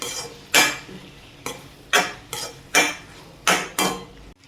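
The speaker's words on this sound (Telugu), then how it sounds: "కట్ చేసి పెట్టుకున్న మష్రూమ్స్ అన్నీ యాడ్ చేస్తాను. ఇది ఒకసారి ఇలా కలుపుకోండి." Cut mushrooms are stirred into curry in a pan with a spoon, making about six sharp, evenly spaced scraping strokes against the metal, clear and close with no voices.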